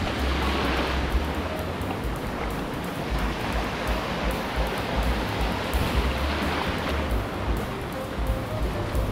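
Continuous roar of surf and breaking waves at La Jolla, close and fairly loud, with a steady wash of noise and low rumbling underneath.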